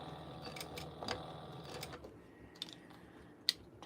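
A sewing machine topstitching a fabric pouch, a short rapid mechanical whir of needle strokes that slows and stops, followed by a couple of sharp clicks, close and fairly quiet.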